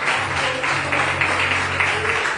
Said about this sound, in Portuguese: Você que crê, aplauda bem forte em nome do Senhor.